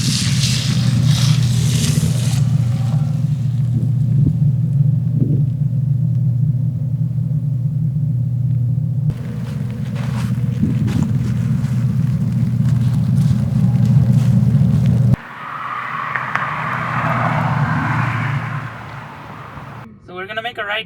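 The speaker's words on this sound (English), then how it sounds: "So that's the acceleration noise." A Tesla Model S3XY Boombox external speaker plays a custom acceleration sound, a low droning hum that swells and shifts as the car pulls away, heard with road rumble and someone talking.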